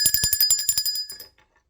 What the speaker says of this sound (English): Let's ring the bell for that.